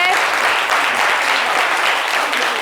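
Steady applause from a group of people, loud and continuous throughout, with no pauses.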